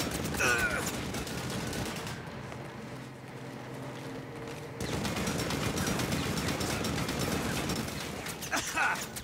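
Turret gunfire in the video game Saints Row, rapid bursts of shots crackling in a dense stream, pausing briefly in the middle before resuming, fairly faint under game noise.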